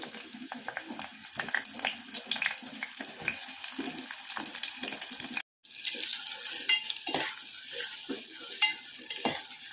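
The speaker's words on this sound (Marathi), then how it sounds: "आपण तेल टाकूया मी इथे तीन पळी तेल टाकलं आहे कांदा टाकूया" Onions fry and sizzle in three ladles of hot oil for a dried bombil and drumstick curry, with a steady sizzle and repeated scraping stir strokes. A brief dropout comes midway. No one speaks.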